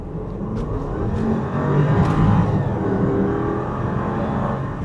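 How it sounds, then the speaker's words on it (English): Range Rover SVAutobiography Dynamic P565 engine revving up, a loud continuous roar swelling midway and staying strong, heard from inside the cabin with no talk. "you do hear the engine roar up when you do that"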